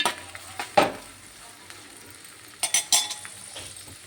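Boiled broad beans frying in oil with salt, a low steady sizzle in the pan broken by several sharp clinks and scrapes of a metal spoon against the vessel.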